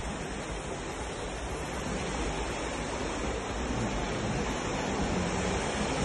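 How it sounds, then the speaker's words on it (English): Steady broadband wash of splashing water and echoing noise filling an indoor 25 metre swimming pool at a leisure centre, constant and fairly loud throughout with no distinct voices. "Here is our 25 metre pool."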